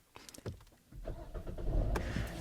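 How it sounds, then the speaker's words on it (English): A Hyundai Tucson with a 2.0 GDI engine and an ignition coil misfire problem restarts. After faint clicks, the engine cranks and catches, and a low, rising run settles into a steady idle. The sound is quiet and heard alone. "Let's go ahead and restart the engine."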